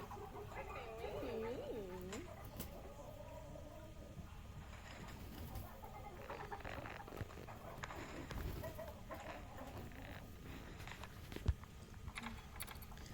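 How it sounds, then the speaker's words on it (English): Chickens, geese and ducks crowd a farm barn, a busy mix of clucks, honks and quacks layered over scuffling and a person talking, with one sharp knock near the end. "Having the geese and the ducks in here, it's just adds a lot of chaos for the chickens"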